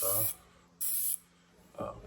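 An airbrush with a wide spray pattern hisses out paint onto a model building kit in three short bursts, separated by quiet pauses, close and clear.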